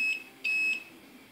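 A continuity tester beeps while probing the pins and holes of a power cable: two clear, steady electronic tones, the first short and the second held longer, in a quiet room with no talk.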